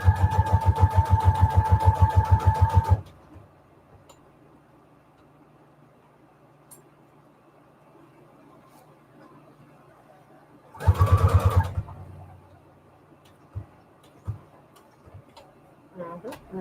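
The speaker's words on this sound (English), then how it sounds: "stitch this on here, and I'm just going to use a straight stitch on the longest setting" A sewing machine runs a straight stitch on its longest setting, fastening fabric scraps onto a paper tag, in a steady, close mechanical burst lasting a few seconds; a second short burst follows after a quiet pause with faint clicks.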